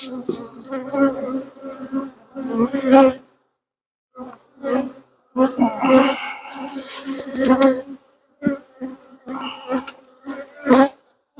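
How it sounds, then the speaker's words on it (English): Dense, steady buzzing of many honeybees close by at an open hive, swelling and dropping in bursts with brief quiet gaps. "Look at the bees."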